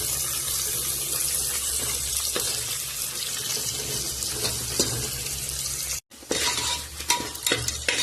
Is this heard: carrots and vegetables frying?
yes